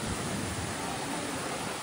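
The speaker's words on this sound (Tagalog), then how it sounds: "Lakas ang hangin, grabe." Strong wind roars and buffets the microphone in a dense, continuous rush at White Beach, Boracay, with surf-like noise underneath and no voices.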